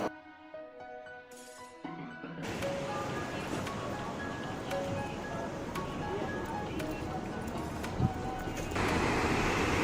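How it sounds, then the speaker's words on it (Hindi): The Mandakini river rushing through the mountains near Gaurikund, a broad, steady roar of water that fills the background after a brief quieter start, continuous and fairly loud. "ये है हमारी मंदाकिनी रिवर"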